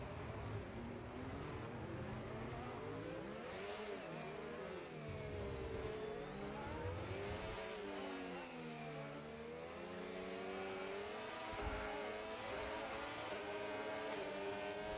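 Race cars at Monaco in a night race of a video game racing league, engines droning and revving continuously as cars pass, a steady loud whir with rising and falling pitch throughout.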